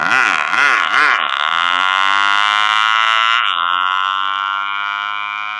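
A voice imitates an old Yamaha motorbike: a wavering start that settles into a loud, steady, nasal engine drone with a dip near the end, heard alone.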